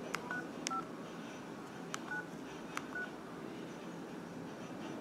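Four short keypad tones sound as a lock code is entered on an LG Lyric MT375 cell phone, evenly spaced beeps at moderate level over quiet room noise.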